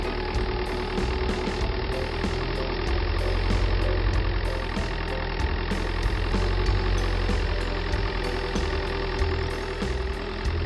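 A heavy tractor engine runs steadily at idle with a low, rumbling drone and faint knocking, continuous and fairly loud throughout with no voices.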